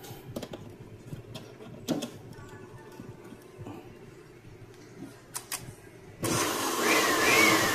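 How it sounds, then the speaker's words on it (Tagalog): A steady broadband electric blower roar switches on abruptly near the end, loud and continuous, after a stretch of scattered clicks and handling noises. "Blower natin, testing."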